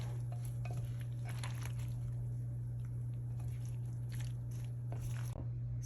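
Roasted vegetables being stirred in a pan, with soft scraping, squishing and utensil clinks repeating irregularly over a steady low electrical hum, fairly quiet and close.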